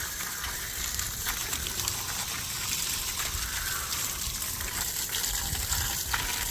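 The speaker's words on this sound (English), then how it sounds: "You're just going to rinse the wheels down to get all that loose debris off the top of the surfaces." Water sprays steadily onto car wheels on a Ford GT350 to rinse off loose debris and brake dust, a constant loud gushing hiss for the whole stretch.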